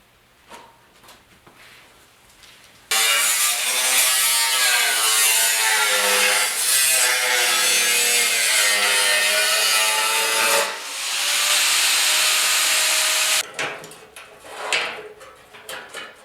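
A power tool cuts a metal piece of a 1969 Ford Bronco quarter panel. It runs loud and steady for about ten seconds, eases briefly, then cuts again, with quieter shop clatter before and after.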